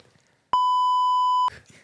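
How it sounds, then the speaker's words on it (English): A pink soundboard button fires a censor beep, a single loud, pure tone of about one second that starts and stops abruptly between quiet stretches of faint background talk. "It's when you say a swear word, you go like this, and then it's like there's like a beep."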